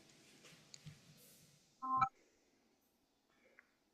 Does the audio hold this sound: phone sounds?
yes